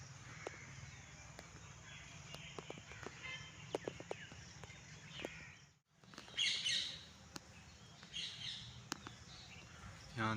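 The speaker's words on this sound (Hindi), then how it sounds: "यहाँ देखें तोते हैं, बहुत ज़्यादा शोर मचा रहे हैं।" Harsh parrot squawks and chirps burst out repeatedly over steady background hum, loudest in a noisy flurry after a brief drop-out midway.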